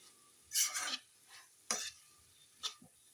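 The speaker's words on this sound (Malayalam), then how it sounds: "ഉള്ള നൂഡിൽസ് ഇട്ട് മിക്സ് ചെയ്ത് എടുത്താൽ മാത്രം മതി" Noodles being stirred in a pan at home, giving three short scraping, sizzling bursts spaced about a second apart, close and fairly loud with quiet gaps between.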